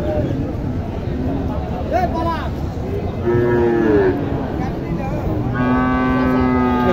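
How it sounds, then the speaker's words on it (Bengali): Crossbred cow mooing at a busy cattle market in Naogaon, several drawn-out low moos rising and falling, the last one long and steady, over a constant crowd murmur with people talking nearby. "এখানে একটা ক্রস গরু দেখি"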